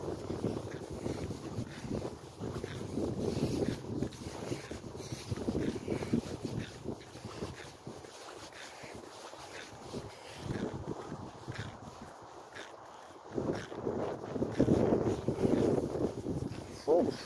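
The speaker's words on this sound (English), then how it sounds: "it's a little windy out here." Wind rumbles and buffets the microphone outdoors, gusting unevenly under people talking nearby.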